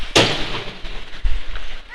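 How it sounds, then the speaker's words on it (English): A hockey puck bangs off the near rink boards during a youth 12U ice hockey game, giving one sharp, loud crack followed by a softer thud in the reverberant rink. "Puck bangs off the near boards onto Arvada's stick."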